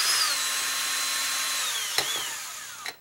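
A power drill bores into a Nerf blaster stock, its steady whine holding close and loud for about three seconds, broken by a couple of sharp clicks and knocks near the end.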